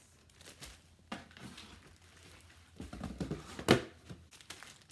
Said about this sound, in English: it came in this plastic. Let me go ahead and open it up.